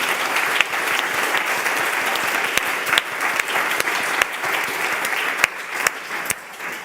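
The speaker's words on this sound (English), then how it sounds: "A big round of applause" Sustained audience applause closing a climate risk panel session, dense steady clapping from a crowd with a few sharper individual claps standing out, moderately loud and without talk.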